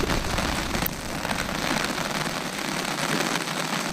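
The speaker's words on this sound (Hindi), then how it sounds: "तेज़ हो गई है बारिश दोस्तों, मुझे निकलना चाहिए, इससे पहले ज़्यादा तेज़ हो।" Heavy monsoon rain pours down on Shimla's Mall Road, a loud dense unbroken hiss of drops drumming on surfaces and an umbrella close by, with no speech.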